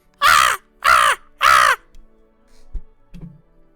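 A human voice imitates a crow, giving three loud, drawn-out caws in a steady rhythm, followed by faint knocks and a brief low murmur.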